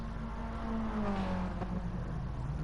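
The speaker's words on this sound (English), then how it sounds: "the Minis do tend to make a sort of more baritone, deeper noise than the Fugus, as you can hear when they drive past" Mid-1960s Mini Cooper race cars at the Red Bull Ring circuit, their deep baritone engines droning steadily as they drive past, with a brief louder pass near the middle over a continuous loud rumble.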